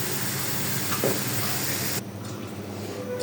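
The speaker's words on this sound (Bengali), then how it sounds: "এখানে পরোটাটা ভাজতেছি" A paratha frying in oil in a kadai gives a continuous, fairly loud sizzle that cuts off abruptly partway through, leaving a quieter hiss.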